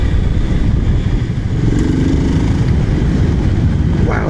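BSA Goldstar 650 motorcycle with a Rotax-designed single-cylinder engine, heard while riding: a loud, steady, close engine drone with heavy wind rush and a brief rising pitch near the end, with no talking.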